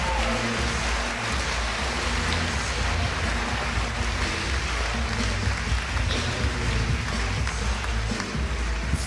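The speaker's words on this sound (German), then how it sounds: "Applaus" An audience at a German science slam evening applauds a performer. Thick, steady clapping continues evenly at full strength throughout.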